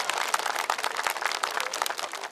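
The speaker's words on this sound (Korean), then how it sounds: "박수 한번 크게 보내주십시오" Crowd of market-goers clapping at an outdoor song contest at Iksan's Nambu market, dense and lively applause filling the whole moment at close range with no voices over it.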